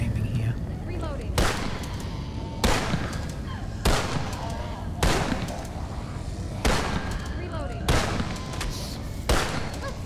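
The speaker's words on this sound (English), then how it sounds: "Big spread on this shotgun, I like it." Shotgun blasts in the shooter game Blackout Protocol, about seven loud booming shots at a steady pace of roughly one every 1.3 seconds, each with a trailing decay, over continuous game noise.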